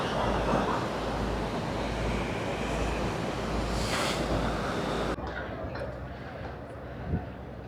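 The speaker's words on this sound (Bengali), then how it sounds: "দেখছেন ইঞ্জিনের কি শব্দ।" A ferry at sea on the crossing to Zanzibar, its engine giving a loud steady roar mixed with wind and rushing water, which drops to a quieter rumble partway through.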